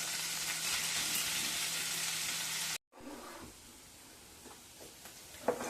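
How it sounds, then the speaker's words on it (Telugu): Paneer pieces frying in butter give a steady, close sizzle that cuts out abruptly midway, then returns quieter with faint stirring scrapes and clinks. "పన్నీర్ ఇలా దోరగా వేపుతున్నాను"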